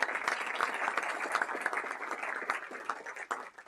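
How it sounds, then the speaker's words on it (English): Audience applause at an award ceremony, a steady, moderately loud patter of many hands clapping throughout with no talk. "Let's give her a nice round of applause."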